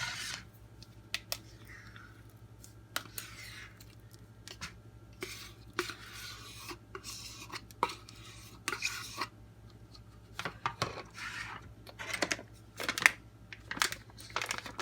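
Cheese, bacon bits and chive-and-onion cream cheese spread being mixed in a bowl, with irregular soft scraping, rubbing and clinking strokes of a utensil against the bowl, fairly quiet.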